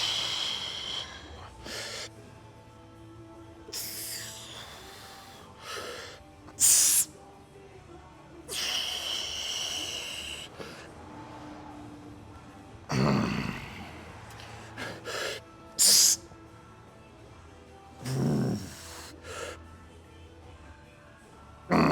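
Heavy, forceful breaths during chest-supported rows in a gym workout, repeated bursts of exhaled air spaced every few seconds alongside soft thuds and background music, close and fairly loud.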